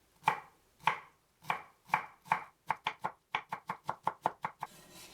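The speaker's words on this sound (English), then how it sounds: "Cut 100 grams of bamboo shoots into small cubes" A knife chops 100 grams of bamboo shoots into small cubes on a cutting board, with about fifteen crisp, close strikes. They start slow and evenly spaced, then quicken into a faster, steady rhythm.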